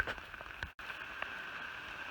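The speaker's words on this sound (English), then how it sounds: "It's 3:15 and it's still pouring rain." Steady rain pours down on a hiker on slick rock along the Appalachian Trail, a continuous close hiss of drops with a few brief louder splashes and one momentary dropout.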